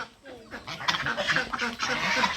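Chickens and ducks being let out in the morning make a busy, close cluster of clucking and honking calls, with some voices mixed in.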